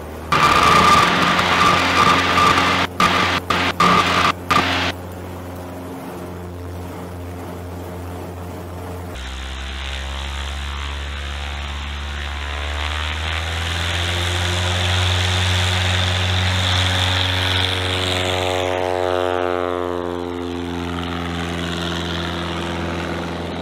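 Husky light propeller aircraft engine: a few clicks and rumble, then a loud steady drone that rises smoothly in pitch as the plane accelerates from brakes for takeoff, with no talk.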